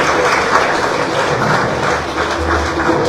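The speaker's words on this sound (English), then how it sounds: "Let's give them another round of applause, please." A large audience at an official event in Liberia unveiling a new digital payments system claps in a sustained, dense wash of applause that stays loud and even across the whole stretch.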